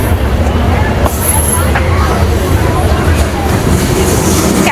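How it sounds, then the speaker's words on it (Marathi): A train rumbles past near White Rock beach during a Canada Day by the Bay seaside event, a loud, steady, close rolling roar mixed with crowd chatter and a brief high squeal. "ट्रेन पण बघायला मिळाली"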